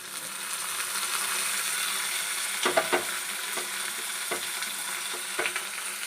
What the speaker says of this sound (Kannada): ಈಗ ನಾನು ಟೊಮೆಟೊ ಸೇರಿಸ್ಕೊತಾ ಇದ್ದೀನಿ